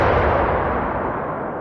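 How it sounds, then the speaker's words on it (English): A loud, booming movie gunshot as police fire, one heavy blast that fills the clip and slowly decays. "the police shot at Mady"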